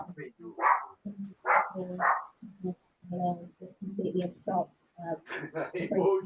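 A pet dog barks and yips in short bursts indoors, close by, mixed in with someone talking loudly over it.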